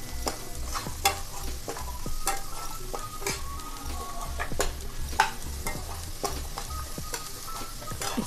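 Two large chopped onions frying and being stirred in a hot pan over raised heat, a steady sizzle broken by repeated sharp scraping and clinking of the spoon, close and continuous.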